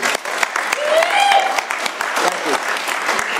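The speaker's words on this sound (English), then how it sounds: "So if we get a round of applause for Annette and Brett for the food." A round of applause at an AA meeting held on church property, close, scattered clapping with distinct individual claps, while a voice or two and a brief whoop cut through partway.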